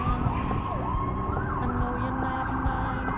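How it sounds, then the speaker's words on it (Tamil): An emergency siren wails continuously, its pitch sweeping up and down over a steady rumble of traffic. "இங்கே எங்கே பார்த்தாலும் இந்த சைரன் சவுண்டு தான்"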